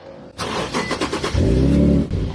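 A car with a 3.7 liter V6, believed to be an Infiniti Q50, seen at a car auction, starts up: a quick stuttering crank, then the engine catches and settles into a loud, close idle.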